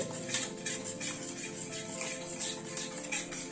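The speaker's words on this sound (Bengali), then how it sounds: "দইটা দিয়ে আবার মিনিট 2 মতো একটু নেড়ে নিলাম।" A spoon stirs yogurt into a paneer and baby corn curry in a pan over a low flame. The metal scrapes and taps against the pan in a quick, steady rhythm, close and clear.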